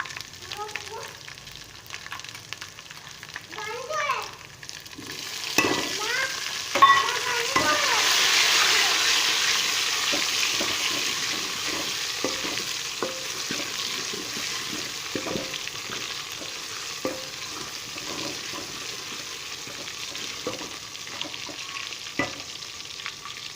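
Garlic and tomatoes sizzle in a hot pan for aloo baingan sabzi, with a loud hiss rising as the tomatoes go in, then a steady fry broken by scraping stirs and occasional clinks.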